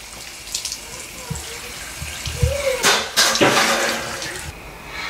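Water from a tap runs and splashes in a sink while a face is rinsed off, uneven bursts and gushes of moderate loudness, close by with no talking.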